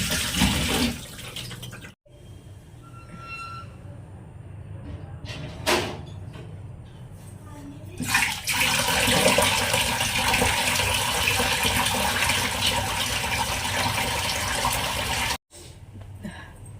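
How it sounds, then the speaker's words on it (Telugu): Water splashes and runs as a face pack made from natural ingredients is rinsed off at home, broadband wet sloshing with brief pauses, sustained and close, with no voices. "ఫేస్ వాష్ అయితే చేశాను"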